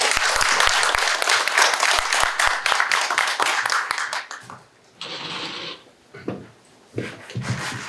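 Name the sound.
audience applause welcoming a speaker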